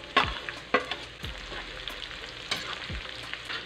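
Garlic, onion and ginger sizzle in a hot oiled pan, with a spatula scraping and tossing them now and then; a close, steady frying hiss with several sharp stirring knocks.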